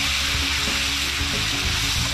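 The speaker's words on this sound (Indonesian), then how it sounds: "Oke, langsung aja kita tumis, Bang." Pigeon stir-fries in a hot pan with a loud, dense, continuous sizzle, crackling close up with no pause.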